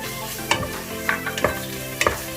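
Chicken pieces frying with softened, yellowed onions in a pan for mushroom soup, with a steady sizzle beneath a few sharp clatters of stirring, close and moderately loud, no talking.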